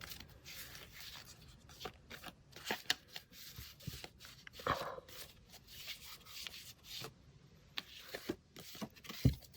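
Tarot cards being shuffled by hand, soft papery riffles and slides with irregular taps and rustles, close but quiet, alone without any voice.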